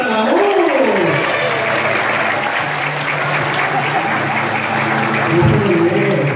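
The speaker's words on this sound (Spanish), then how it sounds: "¡Fuerte los aplausos para el amor!" Steady audience applause at a dolphinarium show in Sonora, a dense continuous patter of many hands, with crowd noise and a loud voice sliding over it near the start.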